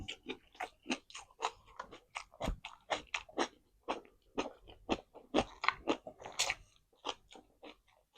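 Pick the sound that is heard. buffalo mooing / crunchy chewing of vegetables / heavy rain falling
crunchy chewing of vegetables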